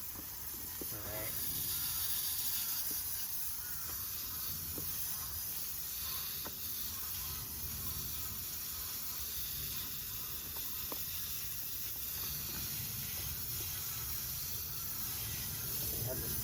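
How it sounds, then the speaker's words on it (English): Water sprays from a hose down a concrete driveway, making a continuous broad hiss that holds steady and fairly close throughout, with small clicks and knocks now and then. "we're gonna spray down the driveway where we got concrete so it doesn't harden"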